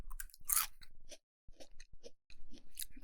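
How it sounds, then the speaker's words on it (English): A crunchy snack chewed close to the microphone, loud crisp bites and crackling crunches in uneven bursts separated by short silent pauses. "I say as I'm eating this crunchy thing."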